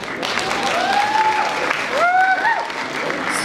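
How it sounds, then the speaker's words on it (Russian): Loud, continuous audience applause at a student KVN comedy contest in a university hall, with whistles sliding up and down over the clapping throughout. "Ваши громкие аплодисменты."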